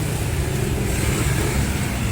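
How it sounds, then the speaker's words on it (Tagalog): Steady, dense roar of street traffic, with cars and engines droning close by and no break or talk over the short stretch. "Traffic."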